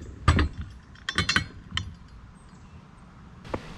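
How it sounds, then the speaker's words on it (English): A 3/4 inch wrench tightens bolts on a Brinly lawn dethatcher, giving a few sharp metallic clinks and ratcheting clicks in short bursts, then a quiet pause and one last clink. "These just need a 3/4 inch wrench to tighten them up."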